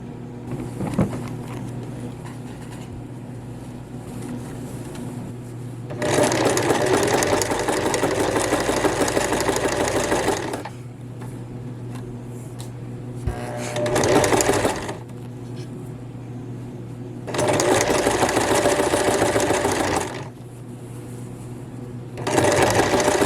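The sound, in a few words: sewing machine stitching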